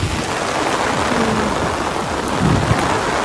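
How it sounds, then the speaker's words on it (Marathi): Heavy rain pours at Salaulim Dam in South Goa, a loud, dense, steady hiss close by with a slight low rumble beneath, no voices. "सामको हेवी पावस आसा आनी आमी पावसान रावल्या"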